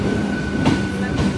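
A passenger train at a station, a steady low rumble with rail noise and a thin sustained tone, plus a couple of brief louder clanks as cars roll past, close by and with no talk.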